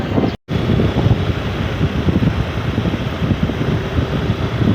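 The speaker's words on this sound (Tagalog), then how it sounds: "Ang lakas ng alon eh." Strong waves surge and wash near a mountain spring, a steady loud roar of surf mixed with heavy wind buffeting the microphone, continuous throughout with no talk.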